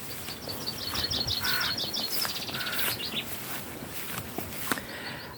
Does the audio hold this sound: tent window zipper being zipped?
no